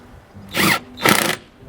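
An impact driver fires two short bursts while tightening office furniture bolts, each a loud, close, rattling buzz lasting about a quarter second, separated by a brief pause.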